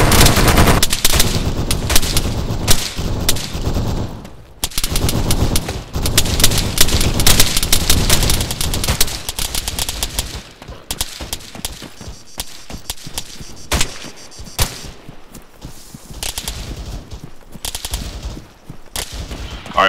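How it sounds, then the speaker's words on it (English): Suppressive gunfire in Arma 3 military combat, loud sustained bursts of automatic fire with rapid crackling shots, briefly pausing then continuing in sparser volleys and distant pops. "Keep up the suppressive fire though."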